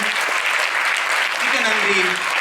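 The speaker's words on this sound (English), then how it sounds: "put a huge round of applause for our tech people who are running the sound and the lighting" A school event audience applauds the tech crew who run the sound and lighting, a dense steady wash of clapping filling the room, with a voice faintly audible underneath.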